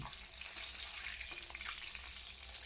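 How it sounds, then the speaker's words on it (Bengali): Rohu fish frying crisp in hot oil in a wok gives a faint, continuous hissing sizzle with no talking. "মাছগুলো কড়া কড়া করে ভেজে নিচ্ছি।"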